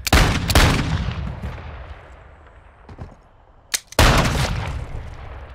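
Gunfire in Call of Duty: Modern Warfare II: a loud burst of shots opens, decaying into reverberant echoes, a quieter single shot near the middle, then another sharp heavy volley with a long rumbling tail.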